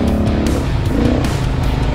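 A Beta 300RR off-road motorcycle engine drones steadily while riding over rocks, a close, continuous rough motor sound with no pauses across the short stretch.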